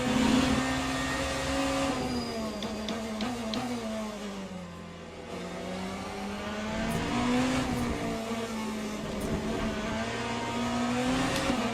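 A BMW hypercar races around Imola in Le Mans Ultimate, its engine whining steadily with pitch rising and falling through gear changes and corners. The engine note is continuous and moderately loud, with occasional faint tire noise.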